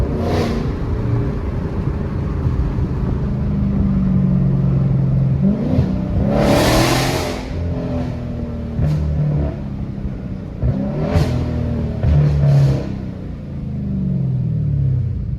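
A modified Dodge Challenger Scat Pack 392 rumbles loudly up close, with deep idle and repeated throttle blips that swell into sharp revving bursts before settling back.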